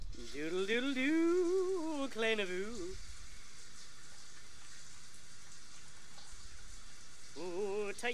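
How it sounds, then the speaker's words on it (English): Shower water in The Sims 4 runs as a steady hiss in the background, while a voice talks over it at the start and again near the end. "Let's take a shower."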